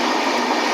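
Inside the Gitanjali Express, a passenger train from Mumbai to Howrah, a loud, steady rumbling roar of the moving carriage fills a brief moment.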